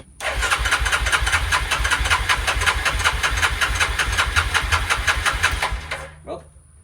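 The starter of a Kodiak 400 ATV cranks its engine with a rapid, even rhythmic chugging for about six seconds without catching, loud and close, then cuts off, followed by a faint brief sound.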